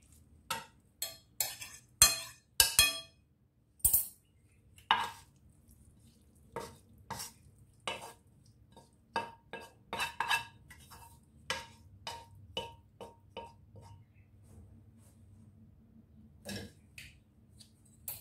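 A gratin filling is stirred in a dish with sharp, irregular clinks and taps of a utensil against the container, some loud and some soft, over a faint background hum, with no talking.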